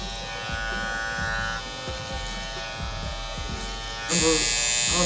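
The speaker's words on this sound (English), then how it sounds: "I like to do clip over comb with the blade open, just for a little bit of a safety measure" Electric hair clippers buzz steadily through hair in a clipper-over-comb cut with the blade open, a continuous close hum with brief strokes and a sharper whine near the end, under some background talk.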